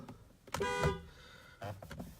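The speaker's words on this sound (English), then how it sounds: "Here's the horn beep." A Jaguar F-PACE car horn gives a short harmonic beep, followed a moment later by a second briefer honk, close by with a few faint clicks around them.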